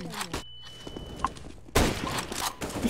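Gunfire in CS:GO, with a sharp burst of shots at the start, a few scattered cracks, then a heavy volley of rapid shots that stays loud and dense, near and punchy amid game noise.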